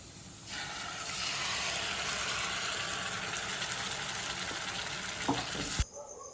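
Tomato paste hits a pan of roasted chopped ginger and green chilli, giving a loud, steady sizzle and fry that runs almost continuously, then cuts off sharply near the end.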